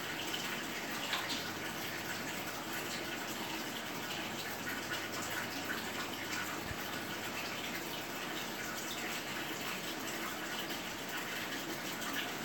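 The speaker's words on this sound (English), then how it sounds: "When you're adding water is the best time to do it." Water pours steadily into a 220 American cichlid aquarium tank, a constant close gushing and splashing that holds the same level throughout with no voices.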